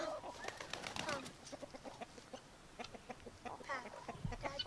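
Several chickens cluck in quick, uneven bursts, close by, with occasional louder squawks and faint wing flutters in the background.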